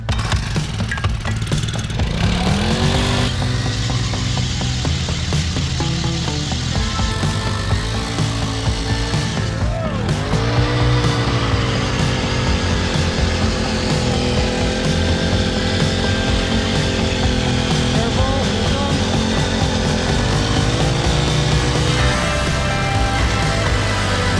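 A small engine on an ice-fishing machine is ripped to life with a pull cord on a frozen lake, then roars continuously at high revs, loud and close, with pitch shifts as it speeds up and settles.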